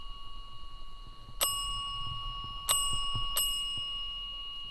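Three sharp bell strikes ring out at irregular intervals, each leaving a long, steady metallic tone that hangs over a low background murmur.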